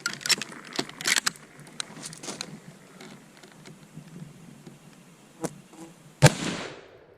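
A single loud gunshot from a Winchester Model 94 lever-action rifle in .30-30, firing reloaded ammunition from a relatively short barrel, cracks sharply near the end, preceded by scattered clicks and handling noises outdoors.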